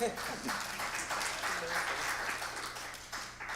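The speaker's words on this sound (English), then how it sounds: "okay, applaud, go ahead, do it." Applause from a congregation during a Yom Kippur layperson's address, a moderate, steady spread of clapping heard from a little distance with a faint low hum underneath.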